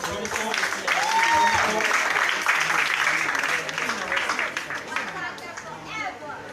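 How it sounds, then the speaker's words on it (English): An audience applauds at a live eviction show for an acting contest in Sierra Leone, a dense wash of clapping mixed with crowd chatter and children's voices, loud and sustained before it fades slightly. "Please give him a round of applause."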